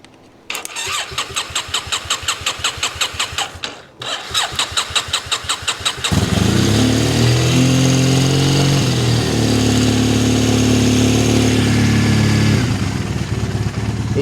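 A classic car engine cranks over in a rapid, rhythmic starter whirr, pauses briefly, cranks again, then catches and settles into a loud, steady idle that runs on close by.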